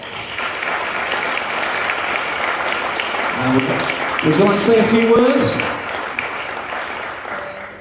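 An audience at a healthy housing awards ceremony gives award winners a sustained round of applause, steady and full throughout, while a voice speaks over it partway through.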